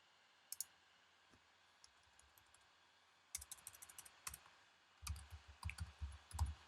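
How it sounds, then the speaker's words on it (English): Typing on a computer keyboard comes through as quiet, close clicks, a few scattered taps first, then denser runs of keystrokes growing louder toward the end. "Let me type"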